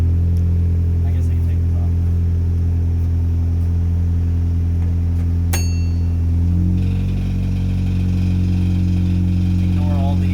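A car engine runs loud and close, a steady low rumbling idle that shifts in pitch and settles partway through. Someone talks briefly over it.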